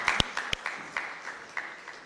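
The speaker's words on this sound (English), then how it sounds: "Let's give him a round of applause." An audience at a school event gives brief, scattered applause, with a few sharp individual claps standing out over softer clapping at moderate distance.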